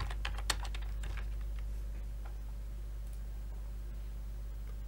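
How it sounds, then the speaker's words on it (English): Taps on a phone's on-screen keyboard entering a search term, a quick burst of soft clicks in the first second and a half, then only scattered faint ticks over steady low hum. "In the search bar let's type in PlayStation."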